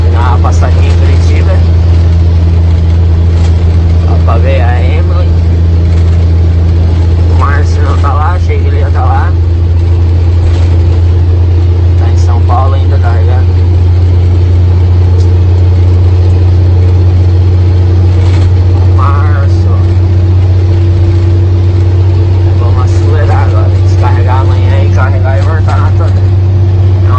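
A loaded truck engine accelerates on the highway with a steady low drone throughout, while someone talks over it intermittently.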